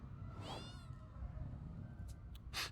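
A cat in a video game meows once, a clear rising-and-falling call over a steady low game ambience, followed by a few brief higher rustling or chirping bursts near the end.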